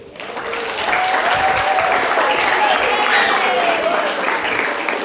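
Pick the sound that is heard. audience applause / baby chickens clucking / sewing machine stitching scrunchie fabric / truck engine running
audience applause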